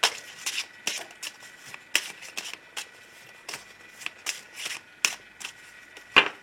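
Tarot cards are shuffled and cut by hand, close up: a run of quick, crisp papery riffles and snaps in irregular bursts with short pauses, no voices.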